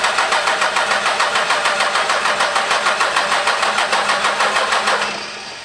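A 12V Cummins diesel engine cranks loudly on the starter in a fast, even rhythmic chug for about five seconds without catching, then the cranking cuts off and fades away.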